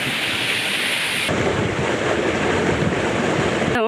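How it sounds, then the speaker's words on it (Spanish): Loud falling water pours down rock walls beside a hiking trail on Madeira, a dense continuous roar and rush close by that fills the whole stretch with no voices. "Escucha, hay agua fuerte, porque en realidad agua hay por todos lados, cae agua por todas las paredes"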